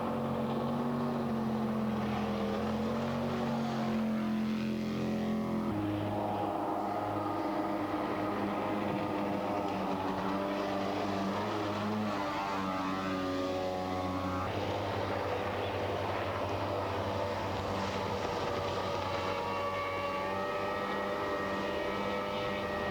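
Jet boat engine at racing speed on a trout river during the 2004 New Zealand Jet Boat Marathon, a steady loud roar with pitch sweeps as the boat passes and changes throttle, heard alone without talk.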